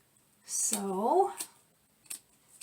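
Scissors snip through hair as someone cuts their own hair into a long bob, with a couple of short, crisp cuts after a brief voice.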